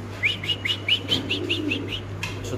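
At a pigeon market, a bird gives a quick run of about nine high, evenly spaced chirps nearby, over a low steady hum, and a soft flutter follows.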